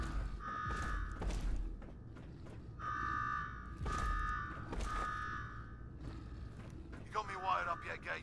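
Inside the Fallout 4 game world, an alarm rings in repeated bursts of harsh tonal buzzing, separated by short gaps and thuds, while voices talk over the closing seconds.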